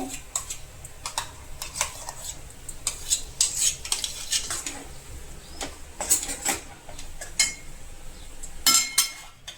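A spoon clinks and scrapes steadily against a pan as mango pulp is mixed into thickened milk, making rapid light metallic taps throughout.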